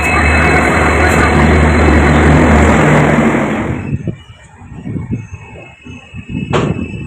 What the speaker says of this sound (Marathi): आणि मी आता ट्रेनमध्ये बसलेलो आहे.